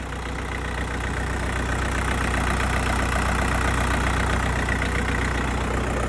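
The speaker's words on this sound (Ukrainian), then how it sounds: "Також одразу продемонструю звук роботи двигуна." A Kentavr 404 40-horsepower diesel mini tractor runs at a steady idle, its engine close and constant with a low, even chugging throughout and no talk.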